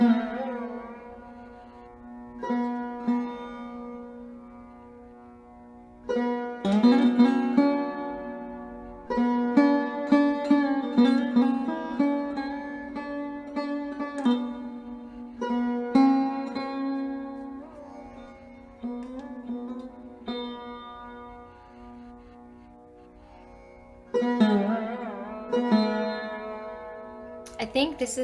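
A Carnatic music piece in raga Bhairavi unfolds as melodic phrases over a sustained drone, moderately quiet, with short pauses between some phrases.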